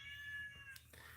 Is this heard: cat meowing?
yes